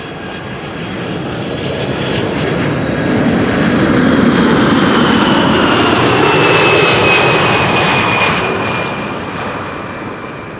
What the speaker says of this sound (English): Here in the foreground we have United Airlines Flight 909, which is a 767-300ER.